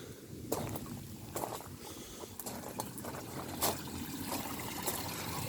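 Water trickles and splashes into a filter on a raised multibay koi pond, a faint continuous dribbling close by with occasional small drips standing out, no voices.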